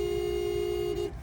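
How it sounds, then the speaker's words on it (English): A 2025 Toyota bZ4X sounds its car horn once in a single steady, loud honk of about a second, heard from inside the cabin, cutting off cleanly. "There's the horn."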